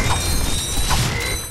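Omni Wrench swing in Ratchet & Clank, a short burst of loud metallic clanking and mechanical rattling with a whooshing, creaky edge.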